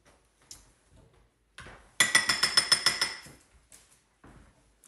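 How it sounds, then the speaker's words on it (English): A spoon scraping and tapping against a container while hummus is spread across the bottom of a bowl, a quick burst of close rhythmic clicks in the middle, set between quiet pauses. "We're going to spread it in the bottom of the bowl, the whole container."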